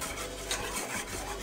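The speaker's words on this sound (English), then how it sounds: "And if you don't whisk it like this, it will stick to the bottom" Alfredo sauce whisked in a pan, a soft continuous scraping and swishing of the whisk against the pan bottom, close and quiet, with faint rhythmic strokes.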